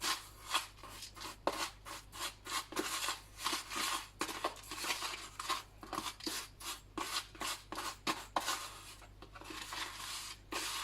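Coarse salt being stirred into a mixture for unclogging a drain, giving continuous gritty scraping and rasping strokes in a steady rhythm, close and fairly loud, with no talking.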